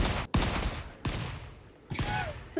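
Bursts of gunfire in the survival game Volcanoids, a few rapid volleys with sharp attacks separated by brief gaps, fairly faint overall.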